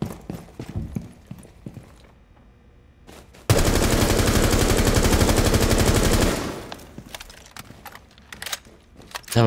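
Sustained burst of rapid automatic gunfire in a first-person shooter, loud and dense for about three seconds, framed by quieter game ambience and scattered clicks.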